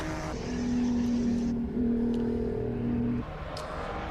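A race car on a hillclimb run at Simola roars with a sustained engine drone that holds pitch, shifts, then drops away as the car moves off into the distance, with no talking over it.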